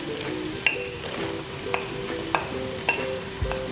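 Tomatoes tipped into ginger and garlic frying in a pan for chicken masala rice, with a steady sizzle under repeated stirring and a few sharp clicks of the spoon against the pan.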